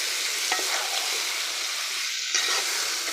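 Turmeric being stirred into a mango pickle salan made with raw green mangoes in a pan, a steady close sizzle with faint scraping strokes and no talk.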